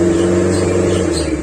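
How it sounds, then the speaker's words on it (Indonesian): A 1995 Daihatsu Espass engine runs loud and close through an open, modified exhaust, a steady rough drone with no talking. "Jika ada suara yang keras, itu cuma pengaruh dari knalpot."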